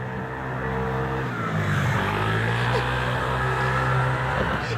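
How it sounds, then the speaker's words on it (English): A moped passes along a city street, its buzzing engine drone rising and falling as it goes by close and loud, filling the whole stretch. "I cannot tell you how many peaceful street scenes I've filmed that have been ruined by a passing moped"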